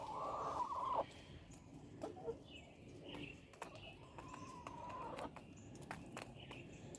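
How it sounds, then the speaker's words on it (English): Backyard hens eating drone brood, soft clucks and gobbling fowl calls scattered through, with quiet pecking taps and light rustling nearby. "Chickens enjoying drone brood."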